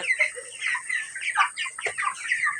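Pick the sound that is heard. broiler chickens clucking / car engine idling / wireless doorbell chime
broiler chickens clucking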